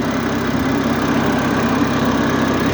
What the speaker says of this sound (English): Timing chain engine, 6-cylinder twin turbo.